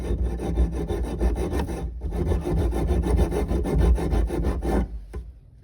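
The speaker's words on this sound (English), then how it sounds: "So take a junior hacksaw" A small, blunt junior hacksaw rasps back and forth in quick, steady strokes, cutting a metal pipe olive with a gritty scraping rhythm that pauses briefly twice.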